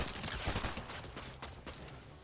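Gunfire bursts in the Fortnite video game, a quick cluster of shots fading into a softer rattle, fairly loud and with no talking.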